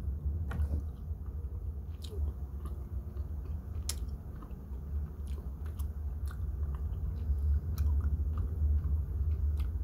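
Someone chews a Bean Boozled jelly bean close to the mic, with soft, steady moist chewing and occasional crunchy clicks running through the whole stretch over a low background hum.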